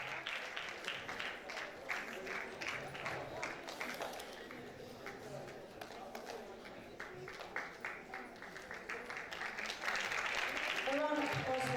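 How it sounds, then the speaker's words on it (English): Scattered audience clapping at a 2024 International Day of the Girl Child event, heard faintly at a distance beneath a person speaking, swelling slightly toward the end. "A round of applause once again"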